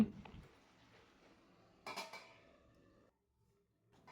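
A metal lid clinks onto a cooking pot of fish-head vegetable curry, one sharp clattering contact midway after soft kitchen rustling, then fading into near silence.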